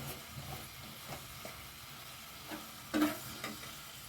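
Potato masala with turmeric being stirred in a pan: a soft, steady sizzle with faint scraping strokes and one louder clatter of the spoon near the end, close by and with no talk.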